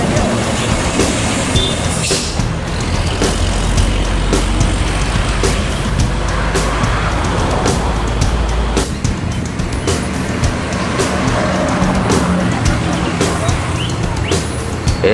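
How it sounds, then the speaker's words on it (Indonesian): A Riau Fajar Riau Wisata tour bus pulls away from Solok, its engine a steady, loud low rumble with broadband road noise that holds throughout, dipping slightly partway through. "Bus pariwisata Riau Fajar Riau Wisata meninggalkan Solok menuju daerah tujuan."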